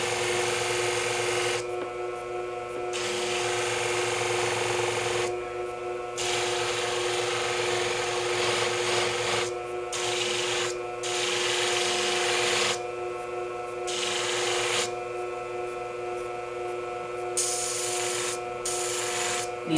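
Steady, close gritty rasping of a Bonika shears blade worked against an abrasive to shorten and round off its gouged tip, running in long passes broken by brief pauses.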